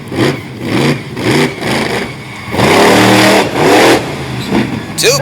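Black Stallion monster truck engine revs hard and loud through a run at a Honesdale, Pennsylvania event, rising in repeated surges and swells, with an announcer talking over it.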